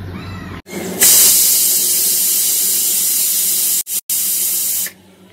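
A pressure cooker on a high gas flame, cooking sarson da saag, lets off a loud, steady hissing steam whistle for about four seconds, broken by two brief gaps just before it stops.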